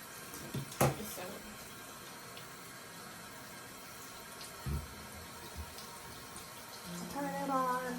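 Running water pours steadily from a bathroom tap during face washing, a constant soft hiss with a couple of louder splashes and a brief trickle near the end.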